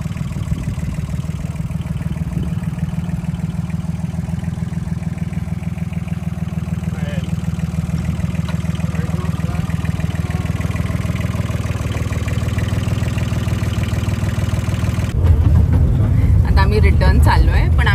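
Steady low engine rumble while riding the Rudyard Lake miniature train, a small toy-like train near a dam station in England, continuous and close, with people talking over it and a brief clattering burst near the end.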